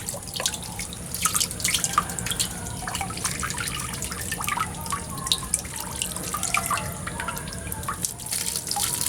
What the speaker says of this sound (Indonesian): Kemudian kita gunakan untuk nyiram, salah satunya untuk nyiram nih seledri.